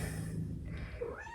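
A house cat meows once near the end, a short rising cry heard fairly close over a steady low indoor hum.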